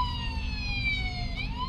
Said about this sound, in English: And where's the ambulance going?